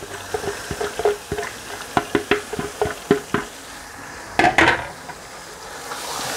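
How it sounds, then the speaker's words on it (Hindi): A utensil stirs chana daal into keema in a pan, giving a series of sharp knocks and scrapes against the cookware, irregular but fairly regular in pace, close and clear over a low background, with no talk. "हुण असां इसने विच दाल मिक्स करसां।"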